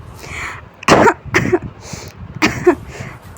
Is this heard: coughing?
yes